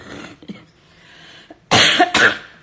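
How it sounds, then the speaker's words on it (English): Two sharp, close coughs burst out near the end, preceded by a few quiet breaths and small throat noises. "Excuse my cough."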